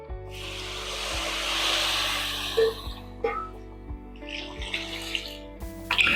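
Water is poured into a pot of sambar rice, a continuous gushing splash that tapers off, followed by a series of dull knocks and clinks of utensils against the pot.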